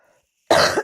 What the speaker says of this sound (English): I've come back as well with a cough.